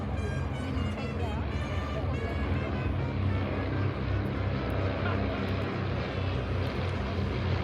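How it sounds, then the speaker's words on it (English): Vintage warbird aircraft fly at the Wanaka airshow in New Zealand, a loud continuous propeller engine drone with a broad rumbling roar that holds steady throughout, overhead and fairly close. "I'll just shut up and let you hear these beautiful aircraft."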